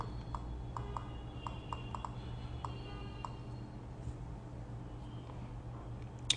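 Light taps on the on-screen keyboard of an Asus Zenfone 2 Laser phone come as soft, irregular clicks in quick clusters over a low steady hum, faint and without speech.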